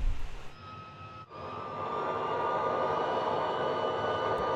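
A video game H135 helicopter engine spins up after a brief pause, settling into a steady, loud mechanical whine and rumble that holds evenly to the end.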